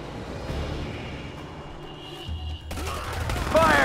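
Gunfire from units in Command & Conquer 3 Tiberium Wars, a steady clatter of rapid shots and bursts under battle ambience and in-game voice lines, growing louder and busier toward the end.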